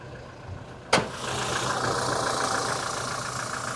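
Toyota Fortuner engine idling steadily after a sharp click, a continuous broadband mechanical hum with no voices.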